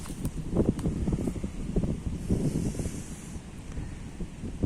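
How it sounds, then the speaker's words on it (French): Strong wind buffets the microphone outdoors at a winter apiary, a steady low rumbling roar with gusty bursts throughout, loud and close, no voices. "il y a tellement de vent"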